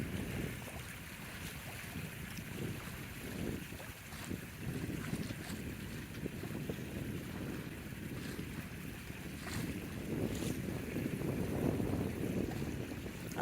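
Sailboat heeling over and moving fast across open water in wind, a faint steady rush of water along the hull and gusting wind over the microphone, with occasional splashes and no talking.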